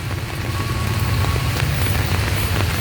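Heavy rain pours steadily in Pasig City, a dense, continuous roar of drops hitting surfaces with no pauses or talk.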